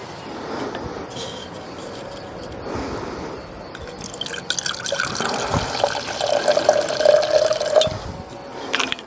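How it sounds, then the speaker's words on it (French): Vodka poured over ice cubes in a shaker for a James Bond vodka martini, a light trickling and dripping of liquid over ice that grows busier and louder in the second half, with no talking. "On verse la vodka dans les glaçons qui ont pris le goût du martini."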